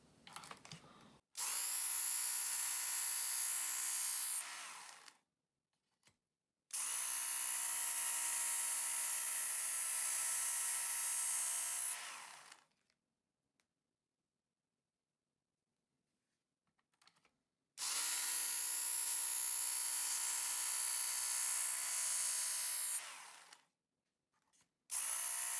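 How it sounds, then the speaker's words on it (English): A Work Sharp sharpener set at a 25-degree angle grinds a Skrama knife to remove chips. It makes three loud, harsh grinding passes of several seconds each, separated by silence. "So I'm using the work sharp on a 25-degree angle. And I'm going to do a couple of pulls and see how we get on."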